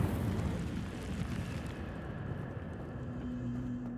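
Incendio fire spell from the Hogwarts Legacy video game, a dense roaring burst of flame that sustains for a few seconds and then thins toward a fading rumble, with no speech over it.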